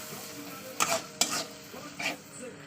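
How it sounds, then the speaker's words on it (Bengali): Prawns frying with salt and turmeric in a pan, stirred with a utensil in three distinct scraping strokes over a soft, steady sizzle, close and fairly quiet. "দিয়ে ভালো করে চিংড়ির সঙ্গে কষিয়ে নেবো।"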